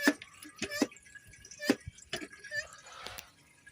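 Fluid dripping and gurgling as a Ford Transit MK8 DPF vaporizer fills while being pumped: close, faint drips and small liquid trickles in an irregular patter, with a quiet background.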